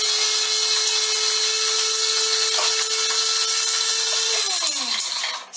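A blender grinds the last hard walnuts for pesto and beet spread, a loud steady whir that holds for several seconds before the motor winds down at the end.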